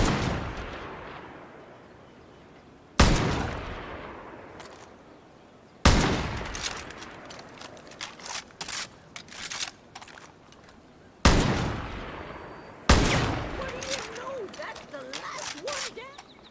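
Hurried gunshots fire in the video game Far Cry New Dawn: four loud, sharp reports spaced a few seconds apart, each decaying into echoes and clatter, with a voice talking between them.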